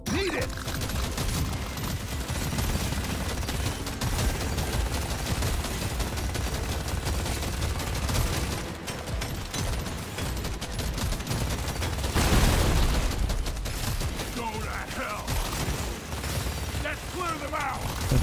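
A video-game chain gun fires in a long, dense, continuous roar of rapid shots, with mechanical clanks and voices layered over the shooting throughout.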